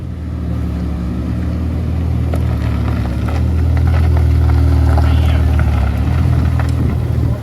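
A 2023 Ferrari SP8, a custom F8 Spider-based one-off, rolls past in a concours class parade at Hampton Court Palace, its engine note a loud, sustained low drone that swells slightly as it passes, with voices faintly underneath.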